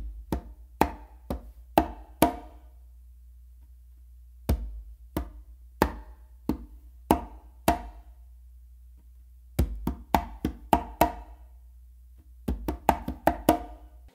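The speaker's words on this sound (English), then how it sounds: "So a close slap with my dominant hand, and then another close slap with my non-dominant hand." Conga close slaps in a guaguanco tumbao pattern, alternating dominant and non-dominant hands: short sharp slaps in clustered groups separated by pauses, close and fairly quiet, with no voices.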